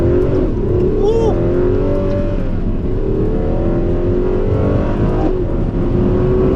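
Ferrari 12Cilindri V12 sports car accelerating hard from a road junction, a loud continuous engine roar climbing in pitch from inside the cabin, with a voice speaking over it.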